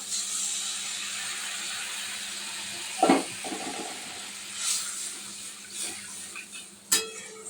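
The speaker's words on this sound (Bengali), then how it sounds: "এই পর্যায়ে একটু জল দিয়ে দেব" Water poured into frying masala for a Bengali egg curry sets off a sharp hissing sizzle, with bursts around the middle and near the end over a steady background hiss.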